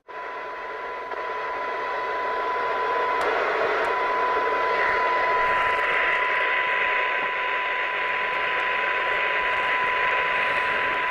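An emergency CB radio picks up a steady, loud hiss of static with a faint constant tone, holding unbroken throughout with no speech.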